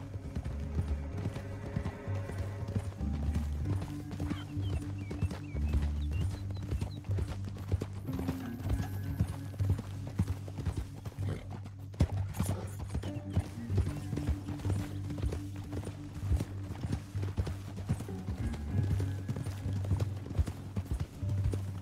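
Horses' hooves clip-clop along a canyon trail in a Western scene, a continuous rhythmic clatter of several animals at a walk, moderately close, with a tonal musical drone running underneath.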